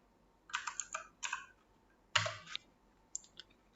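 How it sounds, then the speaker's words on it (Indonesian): Typing on a computer keyboard while editing a README title in a Git and GitHub tutorial: three quick clusters of close, crisp keystrokes separated by short pauses, with no talking. "Jadi di sini kita bisa ketik mengubah judul readme."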